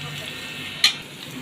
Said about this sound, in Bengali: এখন আমি এক এক করে সমস্ত মশলাগুলো দিয়ে পেঁয়াজটা ভালোভাবে কষিয়ে নেব।